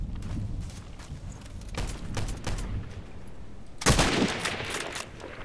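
Mosin Nagant bolt-action rifle shots ring out in a multiplayer shooter game, several sharp cracks spaced irregularly across the scene, with one loud close shot followed by a lingering echoing tail.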